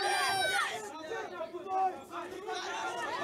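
A crowd roars and shouts around a bare-knuckle boxing fight at a BKB show in Thailand. Raised, overlapping voices swell and fade in a loud, busy arena din.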